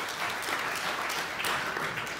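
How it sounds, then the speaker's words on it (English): Audience applause at a church burning bowl ceremony, a soft, steady wash of clapping for a couple of seconds, heard from a distance without speech. "that deserves applaud"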